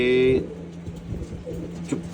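A pigeon kept for racing coos once near the start, a short low throaty note, followed by quiet background with soft rustles and a faint second call.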